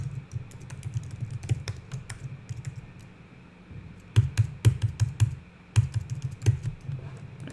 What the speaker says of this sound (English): let's type input